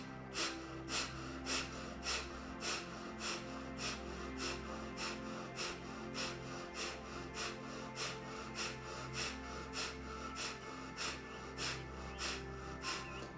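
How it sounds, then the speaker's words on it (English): During a deep breathing exercise, a person breathes in repeated sharp, rhythmic pulses, roughly two per second over a steady low background, close and fairly loud with no talking. "Deep breath in."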